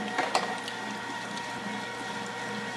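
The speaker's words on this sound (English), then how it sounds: "So right now we're going to grind this all up, and we're going to show you how it comes after it's grinded." A powerful 1-horsepower electric meat grinder works chicken sausage, giving a steady mechanical whir and hum with a couple of sharp clicks near the start, fairly close and without talk.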